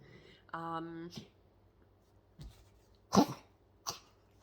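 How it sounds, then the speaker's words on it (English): A dog hacks out several harsh, separate coughs spaced a second or so apart, preceded by a short whining tone. "It's my dog coughing up a lung."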